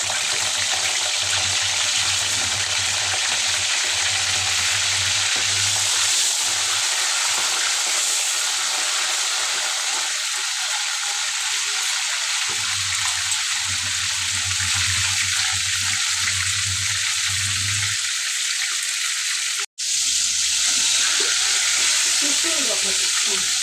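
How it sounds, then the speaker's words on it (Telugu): Stuffed ridge gourd frying in a pan gives a steady close sizzle throughout, with stirring and brief shifts in the crackle as the pieces are moved. "ఇట్లా బాగా వేయించాలి"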